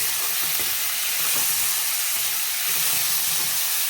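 Onion, ginger and garlic leaves frying in a pan for fish curry, giving a steady, close, loud sizzle and hiss with faint stirring scrapes, no voices.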